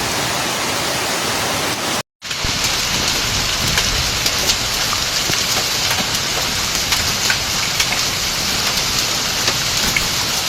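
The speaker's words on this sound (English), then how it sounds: "In Ivrea, heavy rain fell in just a few dozen minutes" Heavy rain falls during a hailstorm in Ivrea, Italy, a dense, loud, continuous hiss of drops pounding surfaces, broken only by a brief cut near the start.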